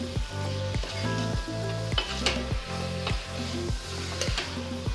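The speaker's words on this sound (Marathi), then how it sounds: "छान परतवून घेऊया" Chicken with turmeric, red chilli powder and Malvani masala sautéing in a pan for homemade chicken biryani, a steady close sizzle with rhythmic stirring strokes and clinks repeating about every half second, no voices.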